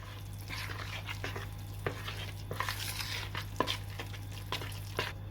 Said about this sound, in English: Now we'll just add in our crumbled bacon and the shredded cheese. Stir that through as well.